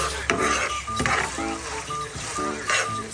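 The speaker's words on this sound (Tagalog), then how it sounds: "At ang ending, halo ng halo lang hanggang sa maluto." Green and red chili pepper stir-fry with oyster and soy sauces being stirred in a pan, metal utensil scraping and clinking against the cookware in repeated strokes over a soft sizzle.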